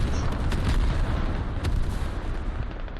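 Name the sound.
creeping artillery barrage in a video game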